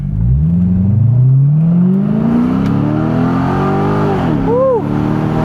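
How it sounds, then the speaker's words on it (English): A C6 Corvette sports car in competitive mode launches hard from a standstill in first gear, its loud engine note climbing steadily in pitch from close inside the cabin, then briefly dipping and surging near the end. "little first gear from 0 pull right here."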